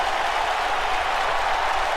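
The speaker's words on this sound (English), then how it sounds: "this crowd is on fire. They're electric. They're going wild" A video game wrestling crowd in WWE 2K20 roars with steady, dense cheering and applause that fills the arena, loud and unbroken throughout, with no voices standing out.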